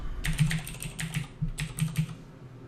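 Computer keyboard typing while a registration form is filled in, clusters of quick clicky keystrokes in short bursts with brief pauses, close and fairly quiet.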